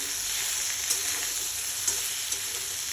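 Potato and green banana pieces fry in hot oil with a steady, loud sizzle, broken by a few faint clicks and pops, and no voices.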